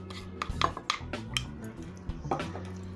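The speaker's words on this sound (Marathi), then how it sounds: "साखर आणि खवा पूर्णपणे एकजीव करून घ्यायचा आहे" Sugar being worked into khoa by hand in a vessel, giving a steady run of soft, squishy mashing and light scraping knocks over a low background hum.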